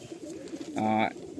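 Young pigeons coo in a loft, a single soft throaty call rising briefly over low background murmur and room noise.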